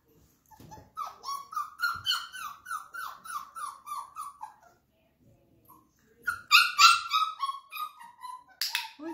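Flat-coated retriever giving a run of high whimpers and yelps, then a louder burst of sharp barks and whines after a short pause, close and mostly alone with at most faint human sounds.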